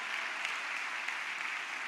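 A church congregation applauds together, a dense, steady wash of many hands clapping at even loudness throughout, with no voices over it.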